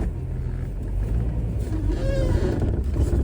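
A Jeep TJ with light pods fitted pulls away on a drive, its engine rumbling low and steady from close by and rising a little as it moves off, with no talk.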